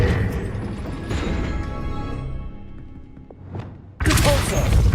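An Accio summoning spell cast in the Hogwarts Legacy video game gives a rushing magical whoosh with thuds. It fades to near quiet, then bursts into a loud, dense blast near the end.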